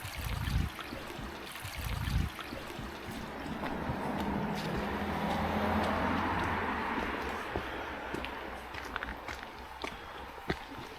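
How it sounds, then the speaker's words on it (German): A babbling brook among rocky woodland near Pottenstein in Franconian Switzerland, a steady broadband rush of flowing water heard close, with a couple of thudding footsteps at the start and scattered crunching steps along the way. "Ein plätscherndes Bächlein."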